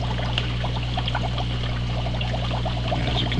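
Water pours and bubbles through a DIY upflow algae scrubber below the waterline, a steady close gurgling trickle over a constant low pump hum.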